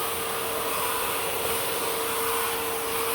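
An Electrolux Well Q7 vacuum cleaner runs steadily with a broad airy whoosh and a sustained motor whine, loud and continuous throughout with no talk.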